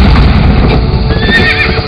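A horse whinnies loudly and close while hooves clip-clop steadily underneath, the neigh rising and wavering over a dense, continuous stamping.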